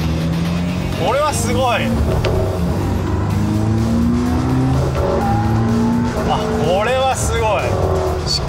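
A battery electric AE86 Levin accelerates with a loud, steady whine and wind and tyre roar, rising tones sweeping up repeatedly, while people talk over it inside the car.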